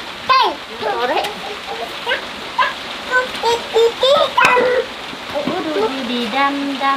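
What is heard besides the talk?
heavy rain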